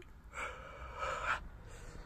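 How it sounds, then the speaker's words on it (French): A person yawns once, close to the microphone, a drawn-out breathy rising exhale lasting about a second in an otherwise quiet room. "J'arrête pas de bâiller, j'ai sommeil."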